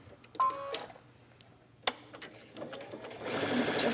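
A sewing machine stitches a buttonhole in short bursts, with a clicking start, a sharp tap, then a steady rising whir at close range, fairly quiet overall.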